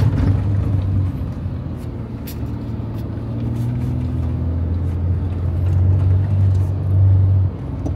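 Car driving over desert dunes, a close engine drone that rises and falls in pitch as the vehicle labors and shifts, with some bumps and rattles.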